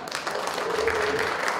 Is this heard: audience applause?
yes